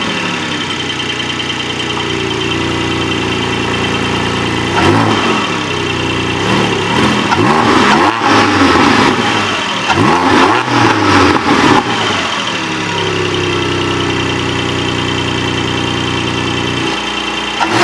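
Porsche Spyder engine with an exhaust modification fires up and settles into a steady idle, with several throttle blips and revs in the middle, loud and close throughout.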